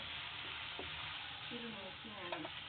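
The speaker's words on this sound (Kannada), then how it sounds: "ಈಗ ಇದನ್ನ 2 ನಿಮಿಷ ನಾನು ಫ್ರೈ ಮಾಡ್ಕೊಂಡಿದ್ದೀನಿ" Avarekalu field beans frying in a tempering make a faint, steady sizzle that hisses evenly throughout, with a brief murmur of a voice in the background near the end.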